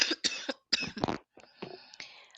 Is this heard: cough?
yes